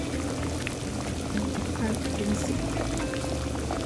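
Water pours steadily into a cooking pot holding softened meat, a continuous splashing gurgle under a person speaking Spanish.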